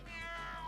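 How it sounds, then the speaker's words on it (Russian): A cartoon tiger lets out a single drawn-out, cat-like meow, close and clear, lasting under a second over a faint steady hum. "он даже мяукает"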